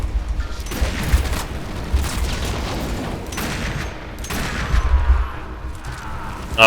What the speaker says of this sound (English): That's a bombard missile.